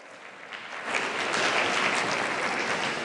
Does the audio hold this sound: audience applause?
yes